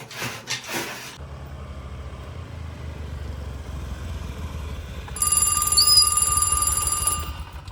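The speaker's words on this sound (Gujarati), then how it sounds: "કોનો ફોન આવ્યો વળી" A brief voice, a quiet pause, then a phone rings loudly with a bright electronic trill for a couple of seconds.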